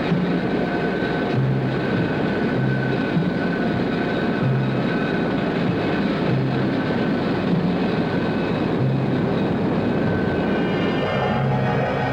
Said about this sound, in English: Tactical Air Command quickly brings its aircraft to an advanced alert.